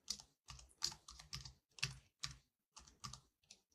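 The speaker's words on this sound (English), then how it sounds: "I'm going to type that in." Keys clatter in short bursts of typing on a computer keyboard, close and clear, with brief pauses between clusters of strokes and no talking.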